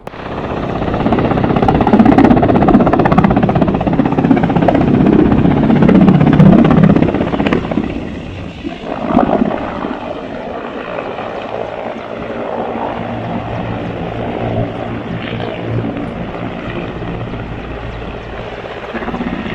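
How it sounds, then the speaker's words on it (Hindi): An Indian Air Force military helicopter roars loudly nearby with a heavy rotor thrum, then recedes and lingers as a steadier, fainter drone in the distance, near Kedarnath. "ये इंडियन एयरफोर्स का हेलीकॉप्टर है।"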